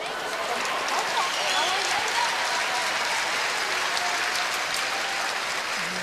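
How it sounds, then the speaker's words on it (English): Curling spectators at a women's world championship qualifier between Korea and the United States give sustained applause and scattered cheers throughout, a steady wash of clapping with commentary voices faintly underneath. "Cheering them on."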